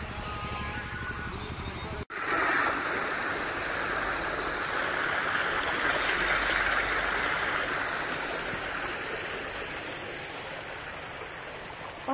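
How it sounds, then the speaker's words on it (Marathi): Water flows steadily along an irrigation canal past farm fields, a loud continuous rushing after a brief cut near the start, with no talking. "पाटाचं पाणी जातं"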